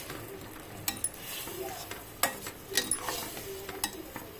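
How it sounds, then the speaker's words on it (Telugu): Onion paste fries in a pot for chicken biryani, a soft low sizzle under repeated scraping and clinking stirs from a utensil, fairly quiet and close, with no one speaking. "ఉల్లి ముద్ద వేసేస్తున్నాను. వేసుకొని బాగా కలుపుకోవాలి."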